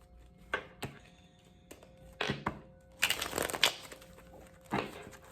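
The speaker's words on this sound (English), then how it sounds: "Shuffle about 4 times." Playing cards are shuffled in a few separate bursts of quick riffling and shuffling, with brief pauses between, close and fairly quiet.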